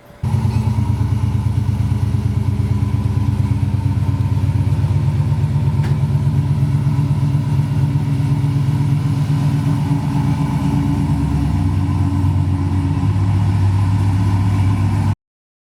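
A Chevelle's engine runs in a steady, loud, close rumble for the whole stretch, its note shifting slightly near the end before cutting off sharply, with no voices.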